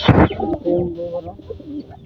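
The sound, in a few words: pet pigeons cooing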